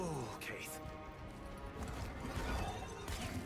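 Horse hooves clip-clop steadily in the Warframe video game, a fairly quiet rhythmic stream of hoofbeats under background game sounds and a voice talking.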